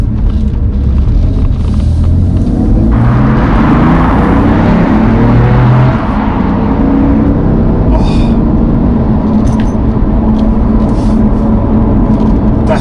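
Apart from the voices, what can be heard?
2017 BMW M3 Competition engine and exhaust sound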